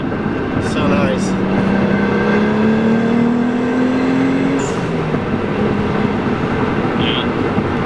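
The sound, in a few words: Nissan 300ZX stock turbo engine accelerating under boost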